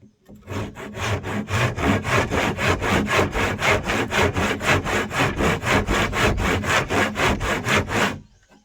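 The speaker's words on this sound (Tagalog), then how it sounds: "Naglalagari ka lang dito" Hand saw cutting through wood in steady, rapid back-and-forth strokes, loud and close, about twenty even rasping pulls in a row with no talking.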